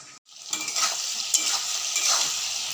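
Potatoes fry in a pan with a steady, close hiss and sizzle and a few light stirring clatters, the loudness holding fairly even after a short quiet start.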